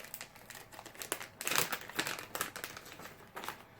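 Fishing lure, a bluegill imitation, being pulled out of crinkly plastic packaging, with a quick run of close, sharp crackles and rustles, louder in the middle, and no talk.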